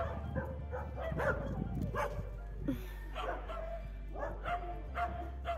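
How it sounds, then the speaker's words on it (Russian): A pack of dogs barking, with repeated woofs and yips rising and falling over a low background rumble, fairly faint and distant-sounding, with a few whimpering notes between the barks. "где его ждала стая собак"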